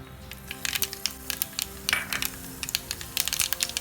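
Half a teaspoon of mustard seeds dropped into hot oil in a pan for a curry leaves kuzhambu, giving irregular sharp popping and sputtering crackles in quick clusters, close and fairly loud, with no talk.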